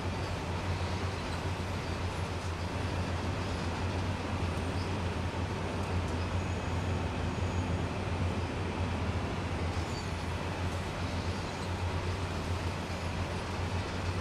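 A train rolls along in the Train Sim World game, giving a steady low rumble with broadband clatter that holds at an even level throughout, with no one talking.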